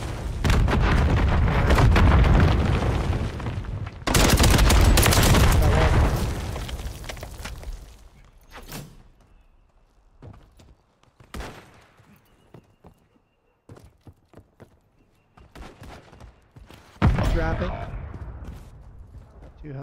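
Video game gunfire and explosions during ranked play come as loud sustained bursts, then scattered shots and pops, with a voice talking over parts of it.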